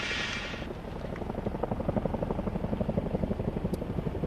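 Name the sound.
helicopters flying in the distance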